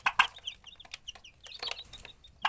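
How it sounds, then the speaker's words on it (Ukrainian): High, thin peeping chirps repeat rapidly from young chicks nearby, with a few louder clucks and rustles mixed in. "Ось такі наші курчатка."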